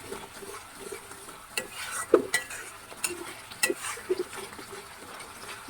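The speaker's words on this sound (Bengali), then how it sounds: "এবার একটু করে নাড়াচাড়া করে দিতে হবে" Cloves, bay leaf and cinnamon stirred in hot oil in a pan make a soft, close sizzle, with scattered spoon scrapes and metallic clinks against the pan.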